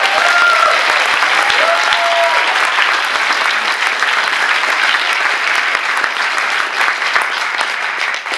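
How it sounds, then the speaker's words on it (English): An audience at a talk on MDMA and psychedelics applauds the speakers, a dense sustained round of clapping from a crowd that stays loud for several seconds before tapering slightly at the end. "please give our speakers a round of applause"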